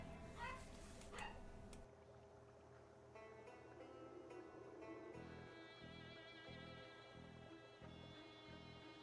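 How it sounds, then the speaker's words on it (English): A small dog yaps in the background during a Project Zomboid game session, bursts of short high barks and whimpers coming through faintly at the start, then fading under steady game ambience and music. "Oh no, you can hear the dog!"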